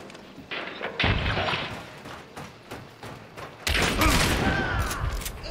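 A concertina bomb blasts in a video game with two heavy, rumbling booms separated by a few seconds. Each boom has a broad, crackling tail, and muffled background noise sits between them.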